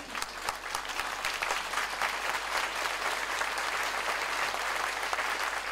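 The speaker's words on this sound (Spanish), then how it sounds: "Dale un aplauso al Rey" A church congregation applauds during a sermon, giving a round of applause to the King: a continuous, even wash of many hands clapping, somewhat distant and fairly quiet, with no speech.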